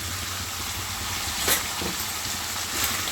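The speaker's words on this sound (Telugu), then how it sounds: "ఇలా వాటర్ అంతా ఇరిపోయినాక అల్లం వెల్లుల్లి పేస్ట్ వేసుకోవాలండి" Ginger garlic paste frying with chicken pieces in a hot pan for a spicy chicken fry, giving a steady close sizzle with faint stirring scrapes throughout.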